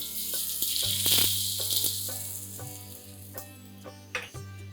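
Asafoetida drops into very hot mustard oil in a pan with the gas off, for traditional bharda bhaat. A short burst of sizzling fades to a faint crackle over a low steady hum, with a couple of small clinks near the end.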